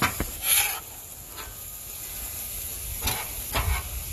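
Smash burgers sizzle steadily on a Blackstone griddle outdoors, with a constant frying hiss and a few short scraping bursts from a spatula moving the patties.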